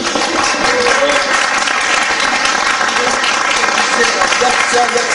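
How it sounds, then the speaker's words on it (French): Studio audience applauding a contestant's score on a French game show, a dense steady wash of clapping filling the whole stretch with voices mixed underneath. "sous vos applaudissements, mesdames et messieurs"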